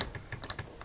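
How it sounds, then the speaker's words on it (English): Quick small mechanical clicks and ticks from the shutter setting being moved on a Lancaster Instantograph camera, several short taps in uneven rhythm, close and fairly quiet. "So I'm going to move the shutter to"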